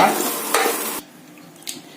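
A spoon stirs roasted gram (putani) in a hot pan while making mutton chops: about a second of dry scraping and rustling, a quick second stroke, then near silence.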